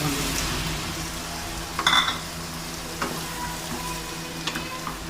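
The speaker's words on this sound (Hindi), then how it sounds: "अब इसके अंदर वो अपने कपूरे वो डालना है।" Kapure, goat testicles, sizzle in a hot pan with a steady frying hiss, broken by a few sharp clinks and scraping stirs of a utensil against the pan.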